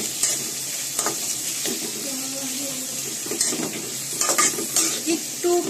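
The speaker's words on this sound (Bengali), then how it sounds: "কষিয়ে নিব পেঁয়াজগুলো ভাজা ভাজা করে" Chopped onions fry and sizzle in a pan for a salt-preserved hilsa curry, with steady sizzling broken by scraping stirs of a spatula and a few louder knocks.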